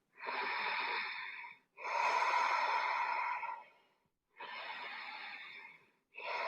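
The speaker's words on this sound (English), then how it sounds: "Feeling the positive flow of energy in and out through the body," Close, steady breaths in and out through the nose during a vinyasa yoga flow, four long airy breaths separated by short silent pauses, with no talking.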